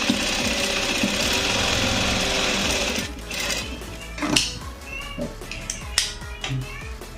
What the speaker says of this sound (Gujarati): આવી જ રીતે આપણે અસ્તરની સિલાઈ લેતા જઈશું।